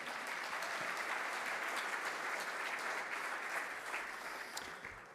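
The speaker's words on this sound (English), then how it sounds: "Let's give them another round of applause." A banquet crowd at the Hermann Trophy awards gives a broad, sustained round of applause for the finalists, even and continuous, fading slightly toward the end.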